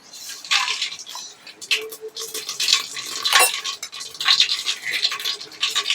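Mustard seeds dropped into hot oil in a pan for tempering dal, giving a steady crackling sizzle with brief popping bursts, close and fairly loud, no voices.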